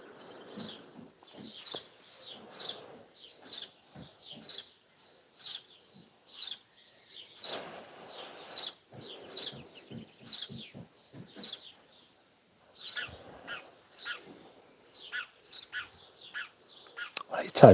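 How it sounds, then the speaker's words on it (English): A tiny bird on a rooftop chirps and tweets in quick repeated bursts throughout, fairly close, with occasional quiet speech and outdoor noise in the background. "Hey, tiny bird, what are you doing? Get out of my roof."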